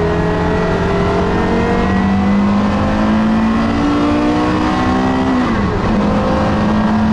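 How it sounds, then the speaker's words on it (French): A manual-gearbox car on an easy warm-up lap during a Paris rally drones loudly and steadily from inside, engine pitch rising slowly through the gear, then dropping at a shift before settling again. "on va faire un premier tour tranquille pour chauffer un peu l'auto"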